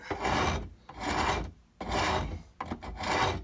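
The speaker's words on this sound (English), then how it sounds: "So I just take this heavy wood rasp and nice, long," Heavy wood rasp filing wood in long, flat strokes while shaping a CVA Frontier muzzleloader rifle stock: four loud, coarse scraping passes separated by brief pauses, close up with no talking.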